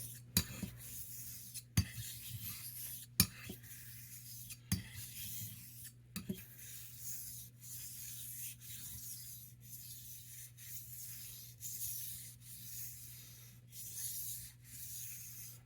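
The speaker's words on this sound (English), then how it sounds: "I just did a corrective stroke on this blade" Straight razor bevel being honed on a 1k Chosera stone with slurry, soft rhythmic scraping strokes repeating close by with occasional sharp ticks, faint and steady throughout.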